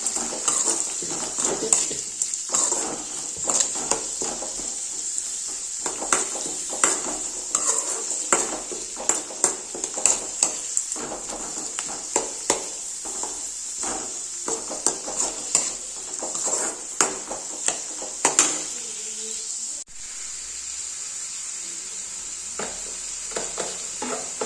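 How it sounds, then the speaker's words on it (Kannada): Chilli, curry leaves and onion fry in a pan with a steady bright sizzle, broken by frequent clinks and scrapes of a spoon stirring against the metal. "ಇವಾಗ ಚಿಲ್ಲಿ, ಕರಿಬೇವು ಮತ್ತು ಆನಿಯನ್ ಹಾಕೊಂಡು ಫ್ರೈ ಮಾಡ್ಕೊತಾ ಇದ್ದೀನಿ."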